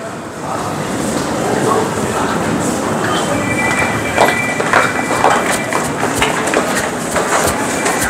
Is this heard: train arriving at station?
yes